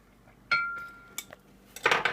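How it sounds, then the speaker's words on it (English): A metal knife scrapes and clinks against the side of a pineapple upside-down cake pan, a ringing tap followed by scattered scraping and a louder rattle near the end, close and with no talking. "So you want to just run your knife around the side of your cake."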